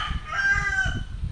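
A chicken calls out nearby, a drawn-out vocal note over low, repeated clucking-like pulses, fairly loud and close.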